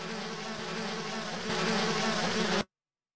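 Swarm of bees buzzing steadily in the 1997 Activision adventure game Zork: Grand Inquisitor, a dense continuous drone that swells louder halfway through, then cuts off abruptly.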